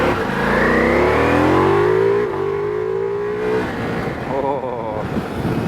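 Ducati Multistrada V4S motorcycle with a V4 engine accelerating hard on an all-road ride, a loud close growl rising through the gears with shift breaks, then easing to a rougher rumble.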